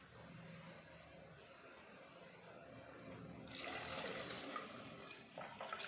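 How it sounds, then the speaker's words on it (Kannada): Water is poured into rice and masala in a pressure cooker for vangi bath, a soft rushing splash that starts midway and stays faint and steady. "ಈ ರೀತಿ ಅಳತೆಗೆ ತಕ್ಕಷ್ಟು ನೀರು ಹಾಕಿ ನೀಟಾಗಿ ಮಿಕ್ಸ್ ಮಾಡಿ"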